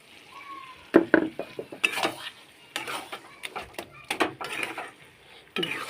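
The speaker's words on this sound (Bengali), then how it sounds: "এবার আমি এই পাও ভাজির যে মেন ইনগ্রিডিয়েন্টসটা সেটা দিয়ে দেবো মানে সবজিটা দিয়ে দেবো" Chopped vegetables tipped into a pan for pav bhaji and stirred with a metal spoon, producing close, irregular clinks and scrapes against the pan with soft sizzling between strokes.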